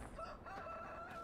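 In Landwirtschafts Simulator 15, a rooster at a henhouse gives one full cock-a-doodle-doo crow, close and clear, lasting just over a second over faint background hiss.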